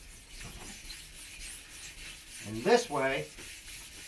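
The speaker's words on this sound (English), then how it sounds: "I really want to scuff right up to it" A painted part is scuffed by hand before buffing, giving a continuous soft rubbing hiss while a voice briefly speaks over it.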